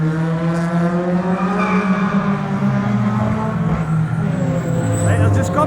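Cars on a track or road at a Japanese car meet, a Subaru WRX STI and a McLaren, roar past with steady engine drone and rising revs, close and loud throughout, with people talking over the noise.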